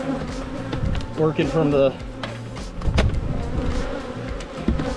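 Honey bees buzzing around backyard beehives during a honey harvest, a steady close droning hum with a few louder passes near the microphone, while someone talks over it.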